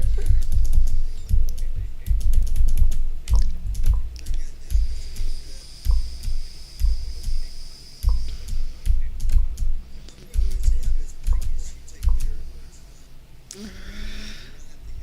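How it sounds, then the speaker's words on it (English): Typing on a computer keyboard, with clustered keystrokes and firm smacks close to a desk microphone, plus a few louder key hits and brief pauses throughout. "I'm going to eventually have this mic issue taken care of where you're not having to hear me smack the keyboard"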